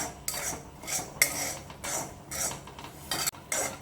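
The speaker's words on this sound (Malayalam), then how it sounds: "രണ്ട് സ്പൂൺ മുളക് പൊടി നമുക്ക് നല്ലവണ്ണം ഒന്ന് ഇളകി കൊടുക്കാം ചെറിയ ഫ്ലെയിമിൽ വേണം ഇളക്കാൻ" A spoon scrapes chili powder around a pan over a low flame while cooking snake gourd theeyal, giving repeated scraping and clinking strokes at a steady, unhurried rhythm, close and fairly quiet, with no voices.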